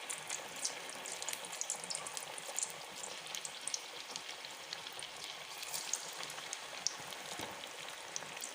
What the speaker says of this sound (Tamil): இப்போ நம்ம ஸ்வீட் கார்ன் வடையை போட்டுக்கலாம்.